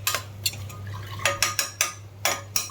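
Tomato pieces are stirred in a metal pan over a high flame, a spoon scraping and clinking in quick, uneven strokes over a steady low hum.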